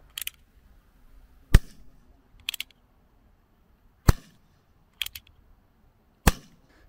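An Umarex Colt Single Action Army .177 air pistol fires pellets through a chronograph in four sharp, isolated cracks spaced a second or two apart. Fainter clicks of cocking or handling come between the shots, and the room is otherwise quiet.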